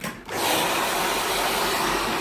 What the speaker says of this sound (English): What we do now is just blow dry a bit